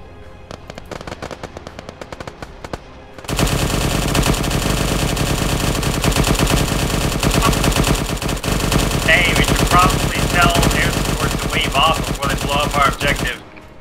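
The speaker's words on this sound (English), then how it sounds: "I'll only engage with miniguns then." Sustained minigun fire in a military video game, a dense, loud mechanical roar of rapid automatic shots lasting about ten seconds after a few scattered single shots, with faint radio-style chatter over it.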